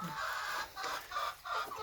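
Hens in a backyard chicken coop in a town, formerly battery-farm birds, giving several short clucks and squawks up close, with no talking.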